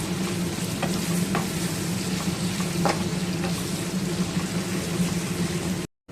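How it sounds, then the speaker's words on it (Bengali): Onions frying in oil until deep reddish-brown, a steady close sizzle with a few faint stirring taps, cutting off abruptly at the end. "এখন আমি পেঁয়াজগুলোকে একদম লাল লাল করে ভেজে নেব"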